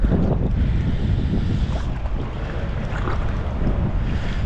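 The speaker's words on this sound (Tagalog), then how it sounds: "malakas yung hangin" Strong wind buffets the microphone in a constant heavy roar on an island shore facing open sea, with the wash of the sea underneath.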